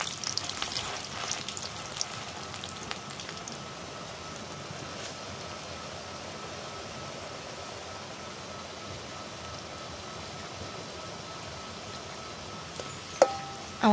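Lentil fritters frying in oil produce a continuous close sizzle, louder at the start and then steady, with a couple of brief clicks near the end.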